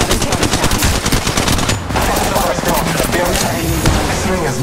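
Sustained automatic gunfire in the Apex Legends Mobile battle royale game, loud and dense, with rapid bursts running almost without a break and game sound layered over them.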